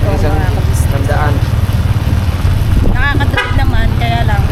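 A motorcycle engine running slowly, a loud, continuous low chugging with people talking over it.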